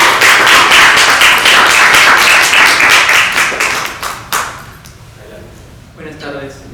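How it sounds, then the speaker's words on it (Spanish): Dense, loud applause from an audience at a film festival presentation, steady for about four seconds before thinning into scattered claps and fading, with a voice beginning to speak near the end. "denles un aplauso a nuestros ponentes"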